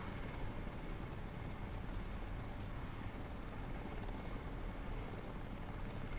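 A helicopter in the video game Crysis flies nearby with a steady, loud rotor and engine roar that stays constant and fills the whole moment, with no voices over it.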